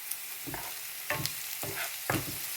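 Ivy gourd (kovakkai) sautés in a hot pan with a loud, continuous sizzle, punctuated by regular stirring strokes about every half second, with no voices.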